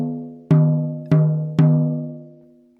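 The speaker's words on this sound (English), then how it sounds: "Now this is the sound of the tom with equalized tunings on the beta head." Three struck hits on a 12-inch tom with its batter head tuned evenly, each a clear, ringing, pitched tone that decays smoothly, spaced about half a second apart, close and dry with no talk.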